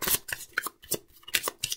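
Lenormand cards are drawn and handled, giving a quick series of close, crisp paper flicks and slides in a brief rhythmic burst.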